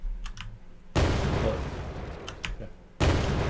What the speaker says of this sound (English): if I go down to play now, it plays an explosion and prints.